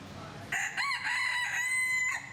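A rooster crows once in a long drawn-out cock-a-doodle-doo at a market in Kampot, Cambodia, fairly close and clear over faint background noise.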